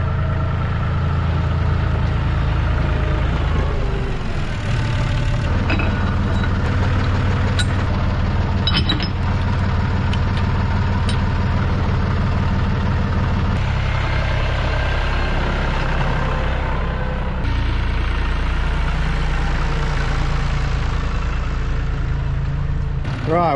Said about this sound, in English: Got a little trailer on the back of this tractor to carry the chain harrow sections.